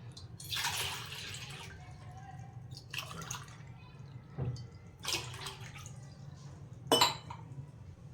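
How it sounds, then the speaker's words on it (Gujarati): Water poured from three glasses in quick succession into a vessel for a winter jaggery sherbet, making a few separate splashing bursts spaced seconds apart over a low steady background hum. "3 ગ્લાસ હું પાણી લઈશ."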